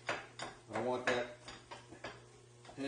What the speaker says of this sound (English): Still chopping away at it here.